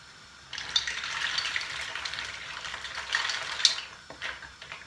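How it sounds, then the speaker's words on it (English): Mussels hit a hot pot for a spicy Trinidadian dish and get stirred. A steady, moderately faint sizzle and hiss runs throughout, with small clinks and scraping from the stirring. "In with the mussels. Give that a stir."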